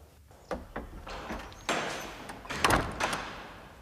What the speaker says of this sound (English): Close the door, Sexton.